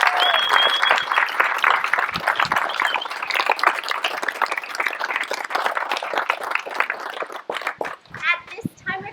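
Wedding guests burst into cheering, whoops and sustained applause right after the couple is pronounced husband and wife and the kiss, a dense lively crowd noise that thins toward the end.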